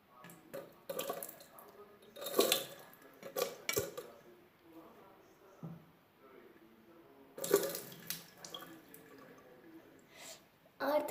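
Water splashes and pours in uneven bursts with faint drips, close to the microphone, with quiet voices in between.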